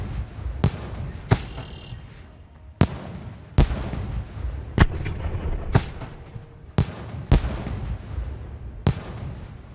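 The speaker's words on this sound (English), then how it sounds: "we've got the fireworks going off right now" Fireworks trap in the video game SCUM going off around a base: a string of sharp, loud bangs at irregular intervals, about nine bursts, each with a short crackling tail over a steady rumbling background.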